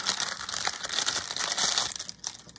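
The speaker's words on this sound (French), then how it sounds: "Excusez-moi pour le bruit, hein. Ça, c'est sûr que ce papier-là, il fait du bruit." Paper crinkles and rustles up close in a steady stream of crisp crackles, easing off slightly near the end.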